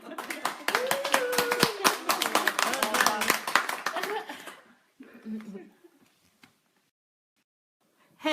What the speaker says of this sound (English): we are clapping for Maria